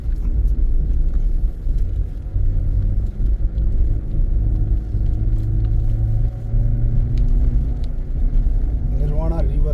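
Car loaded with six people and luggage climbing a very steep hill road near Rishikesh, its engine a heavy, continuous low rumble that stays loud and close, with wind buffeting and people talking over it.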